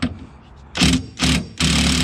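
A wrench loosens a nut at the rear of a 2001–05 Honda Civic, three loud, close mechanical whirring bursts separated by short quiet gaps.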